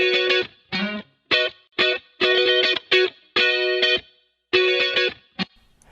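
Two doubled electric guitar takes with pop-style tone effects play together in short, punchy rhythmic chords with bright, chorused distortion, loud and close with brief gaps between strums.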